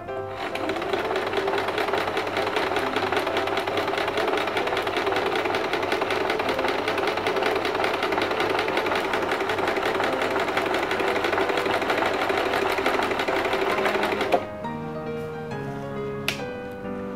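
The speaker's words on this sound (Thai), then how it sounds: "เดี๋ยวเรามาลองเย็บแนวนี้กันบ้างเนาะ" A home sewing machine runs steadily, stitching thin fabric in one continuous loud whir for about fourteen seconds before stopping, followed by a few light clicks.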